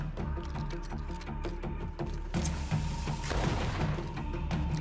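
Several gunshots from the video game GreedFall crack in quick succession amid a low, rumbling game soundtrack, with a denser burst of firing toward the end.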